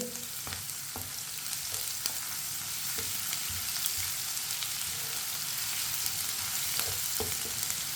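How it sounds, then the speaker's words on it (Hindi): Finely chopped onion with whole cumin sizzles steadily in a pan while browning, a continuous frying hiss broken by occasional scrapes and knocks of stirring; no one speaks. "प्याज को हल्का सा ब्राउन कर लेंगे।"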